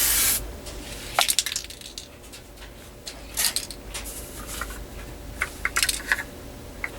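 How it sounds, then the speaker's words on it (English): A spray can of paint hisses out a wide pattern in several separate bursts, the first long and loud, then shorter blasts around the middle and end, with faint clicks and handling noises in the pauses. "this is just a demonstration of how with a spray can from just about the same general distance"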